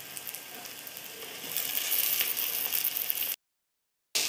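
Fried potatoes sizzle with spices in oil in a pan, for a Bengali aloo dum. A steady, close sizzle grows louder partway through, cuts out briefly, then resumes.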